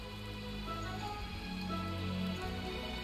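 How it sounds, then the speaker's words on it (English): Rain falls in the video game A Hat in Time, a steady soft patter and hiss running continuously beneath faint game music tones. "It's raining!"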